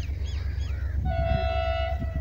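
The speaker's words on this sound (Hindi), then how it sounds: "हॉर्निंग भी कर रहा है," A distant diesel locomotive horn blares in a long, steady honk, preceded by faint chirping birds over a constant low rumbling hum, on a foggy day at Taranda station in India.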